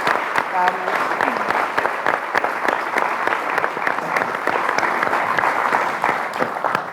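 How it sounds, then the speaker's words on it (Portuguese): Steady applause from a studio audience at a live Portuguese talk show, dense continuous clapping throughout with some voices mixed in beneath. "Uma salva de palmas para os nossos comentadores."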